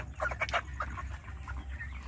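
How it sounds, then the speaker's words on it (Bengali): Chickens cluck in a poultry farm of about 2,200 birds, short bursts of calls overlapping near and far over a steady low farm hum, no talk. "কাকু নিজেই দেখাশোনা করেন এই মুরগির ফার্মটা"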